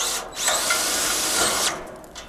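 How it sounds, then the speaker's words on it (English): A power drill bores a new hole into a steel solar panel mount, giving a single high, steady whine of about a second and a half that starts and stops abruptly, close by and alone. "I'll be drilling a new hole into the steel here."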